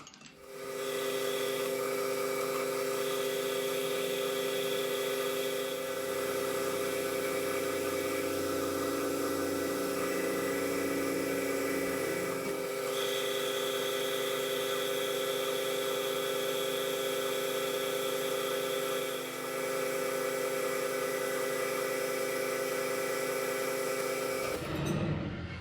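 A metal lathe turns down a 12.5 mm tool holder to 10 mm, giving a steady, loud motor hum and whine with a faint cutting hiss that runs without break, then stops abruptly near the end.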